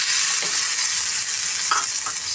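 Dates roast in a pan with poppy seeds while being stirred continuously, producing a constant bright sizzle with a few soft scraping strokes of the spoon, close and steady throughout.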